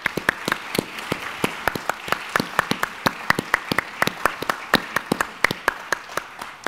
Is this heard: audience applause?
yes